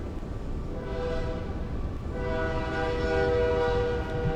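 A train rumbles steadily nearby while a sustained horn sounds over the noise, growing somewhat louder toward the end with no speech.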